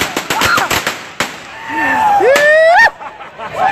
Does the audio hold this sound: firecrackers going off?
yes